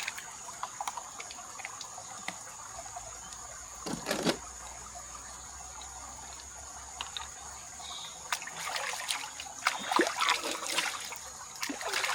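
Spring water trickles and splashes steadily at moderate distance, with a faint constant hum and occasional louder gurgles; no talking.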